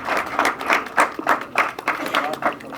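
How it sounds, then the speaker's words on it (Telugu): Audience applause greets the hero Sanjosh as he comes onto the stage at a song launch event: steady, rhythmic clapping from a crowd, heard together with a voice speaking over it. "చప్పట్లు సంజోష్కు ఒకసారి"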